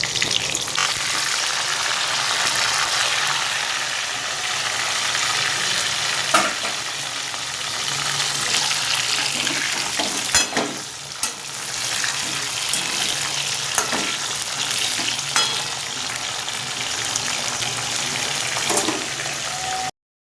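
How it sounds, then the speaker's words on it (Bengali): Pointed gourd (patal) frying in a pan for a second round, a steady broadband sizzle running the whole time with occasional stirring scrapes and no talking. "এবার দ্বিতীয় ধাপে আবার ভেজে নিচ্ছি।"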